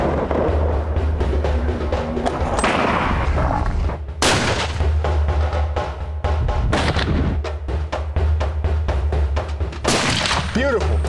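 Loud, sharp gunshots go off in a dense, punchy film trailer mix, with several rapid bangs layered over a heavy low drone and soundtrack, and voices faintly in places.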